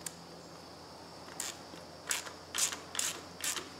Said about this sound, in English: Now tighten these up evenly.